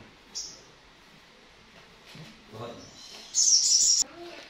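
A bright, high chirp from a songbird like a magpie-robin bursts out near the end, with a brief softer chirp earlier, over faint murmuring voices in the background.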